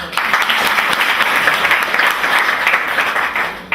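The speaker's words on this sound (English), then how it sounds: "A round of applause for everyone." A university audience at the University of Yaounde I claps loudly and continuously for students, a thick even wash of many hands that tapers slightly at the end.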